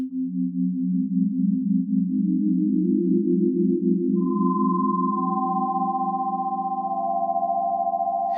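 Two slightly detuned sine-wave oscillators from a synth pad hold steady tones that pulse with a slow beating wobble, and higher sustained notes join partway through, loud, clean and alone.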